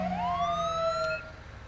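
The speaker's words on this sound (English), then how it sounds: "Get the dual sirens going for a sec." Emergency vehicle sirens from the video game GTA 5, with two tones sweeping and wailing together, loud and close, before one cuts off and a lower rumble carries on beneath.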